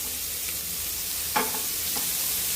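Capsicum tossed into a hot pan of sizzling masala for vegetable Maggi noodles, a steady low frying hiss with a brief stirring clatter midway and a softer scrape after, no voices.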